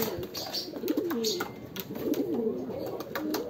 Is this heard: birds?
yes